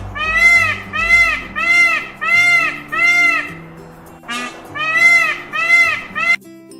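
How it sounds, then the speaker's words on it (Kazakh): A peacock calls loudly and repeatedly with drawn-out, wailing cries in a regular rhythm, close by, with soft background music underneath. "Тауыс."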